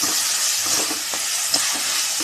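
Onions with salt sautéing in oil for a brinjal and dried-fish thokku, an even hissing sizzle close up with soft intermittent stirring taps, no one speaking.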